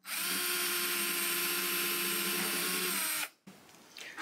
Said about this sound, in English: we're going to drill in